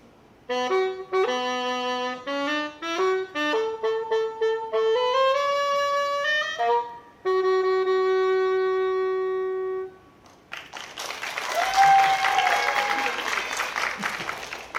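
At a family concert by an instrumental ensemble, a melodic phrase of sustained notes plays for several seconds and then stops, followed by a burst of audience applause, broad clapping that swells near the end.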